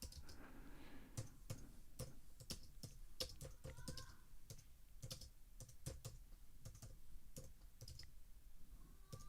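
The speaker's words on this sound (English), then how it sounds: "just typing a little here" Soft, steady keyboard typing with uneven clicks and brief pauses, close by and alone in a quiet room.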